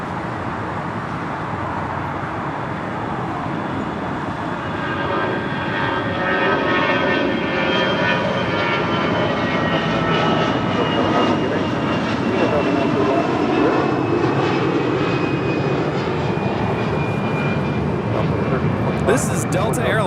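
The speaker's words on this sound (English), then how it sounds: "This is Delta Airlines 931 departing to Austin on an A320." A Delta Airlines A320 departs LAX for Austin with a loud, steady jet roar that holds and swells slightly over twenty seconds, close and continuous.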